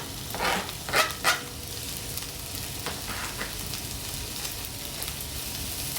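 Two garlic cloves sizzling in a small splash of olive oil in a pan, a steady close frying hiss with a few louder crackles and stirring scrapes near the start, no talking.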